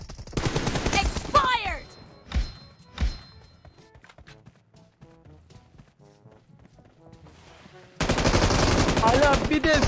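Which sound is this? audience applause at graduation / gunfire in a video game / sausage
gunfire in a video game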